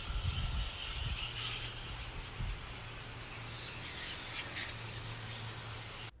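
A water spray washes dirt out of a home HVAC condenser coil, a continuous loud hiss over a low hum, rough and gusty at first and then cutting off abruptly at the end.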